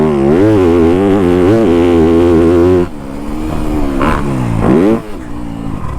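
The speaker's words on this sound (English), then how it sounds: "I love the motor on this Yamaha so much" A 2025 Yamaha YZ250F dirt bike engine, loud and close, revs hard with rising and falling pitch as the rider shifts and accelerates, then eases off briefly before picking up again.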